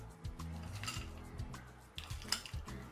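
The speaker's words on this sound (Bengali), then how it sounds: "আম ভর্তাটা ঠান্ডা ঠান্ডা পরিবেশনের জন্য এর মধ্যে এবার আমি দিয়ে দিচ্ছি কিছু পরিমাণে আইস কিউবস।" Ice cubes clink and rattle against a dish as they go into a cold raw green mango mash, a series of close, sharp glassy chinks with scraping and stirring between them.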